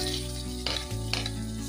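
Chopped tomatoes go into onions frying with curry leaves and garlic, a loud hot sizzle flaring briefly with a couple of sharp bursts, close and with no voices.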